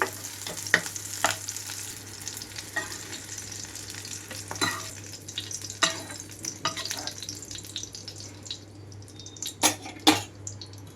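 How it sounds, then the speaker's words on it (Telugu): Green chillies frying in oil in a pan, giving a steady sizzle with a low hum beneath and scattered clinks and scrapes of a utensil against the pan. "రెండు మూడు నిమిషాల తర్వాత చక్కగా పచ్చిమిరపకాయలన్నీ కూడా వేగిపోయినాయి"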